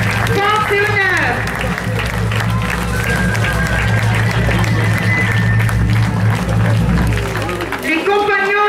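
A crowd at a medieval festival in Lévie gives steady applause to a troupe of performers, continuous clapping with scattered shouts and voices mixed in, fading slightly near the end.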